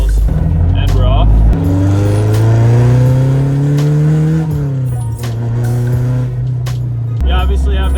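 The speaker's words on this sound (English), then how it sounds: "You obviously have that weird noise from the transmission, which could be a throwout bearing, could be a main shaft bearing." Honda Civic on a drive around the block, engine revving under load with a steady tonal whine from a worn transmission bearing, rising and falling with the gears and shifts.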